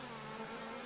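Honeybees hum steadily around a busy hive in an apiary, giving a continuous, even drone that is faint and close with no pauses or voices.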